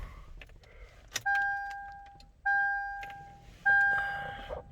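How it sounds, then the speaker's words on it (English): A 2004 Lexus GX 470 SUV shut off in a snowstorm gives three loud, evenly spaced two-tone warning chimes, each ringing steadily for about a second, with faint clicks before them. "It'll tell me probably to shut off the car"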